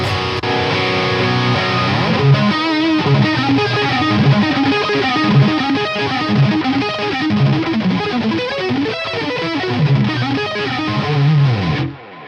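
A heavily distorted 8-string electric guitar with DiMarzio Ionizer 8 pickups plays a dense, low-heavy riff continuously and loudly, then stops abruptly at the end.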